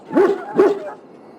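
A dog in Dragon Age: Origins gives two close, loud barks in quick succession, then a brief whimpering tail that fades into quiet.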